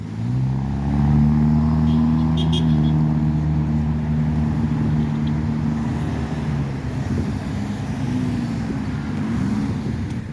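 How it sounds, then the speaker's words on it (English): Cars pass one after another along a busy main road in Medford, with a loud, close engine hum and tyre roar that holds steady throughout. "there's quite a bit of traffic"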